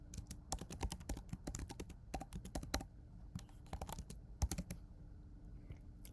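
Fingers type code on a computer keyboard in quick bursts of close, crisp key clicks, with short pauses between runs and no talking.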